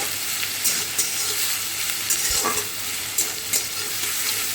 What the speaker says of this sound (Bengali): দিয়ে দিচ্ছি পেঁয়াজ পেঁয়াজটা খুব ভালো করে একটু ভাজব